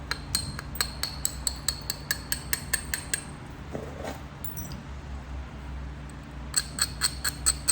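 Sharp, regular clicks of stone striking Florida coral during flint knapping a thin preform, a steady rhythm of close taps that pauses midway and then resumes in a quick series.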